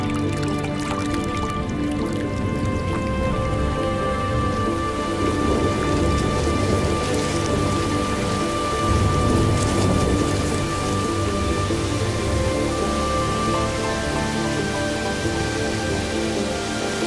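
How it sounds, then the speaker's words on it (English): Heavy thunderstorm rain pours steadily over the Amazon rainforest at the end of the dry season, a dense, continuous hiss of rain and drips with a low rumble of thunder rolling underneath. "April, and the storm clouds roll in again across the mantle of Amazonia."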